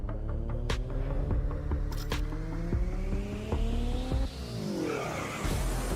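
Race cars in a licensed racing video game roaring steadily while tires skid and squeal, with repeated sharp clicks and the engine pitch climbing before a brief dip and recovery.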